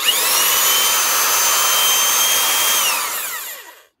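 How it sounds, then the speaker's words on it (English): A Makita 8410BV drill runs in standard drill mode with a loud, steady high whine for about three seconds, then spins down and fades to silence. "That's the standard drill mode."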